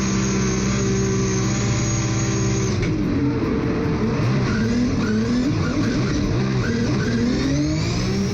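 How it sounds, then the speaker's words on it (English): Drift car engine at the Nürburgring, revving hard with steady throttle, brief off-throttle dips and quick blips before the revs climb again, loud and close throughout with no talk. "So on throttle, off, couple little blips, rev it up, back on throttle."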